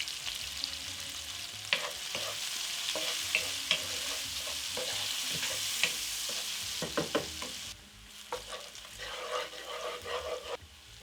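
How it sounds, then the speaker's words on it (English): Diced onions fry in vegetable oil in a pan for chicken thigh tikka masala, a soft continuous sizzle broken by repeated clicks and scrapes of stirring, quieter toward the end. "Add the diced onions and cook until they get some color."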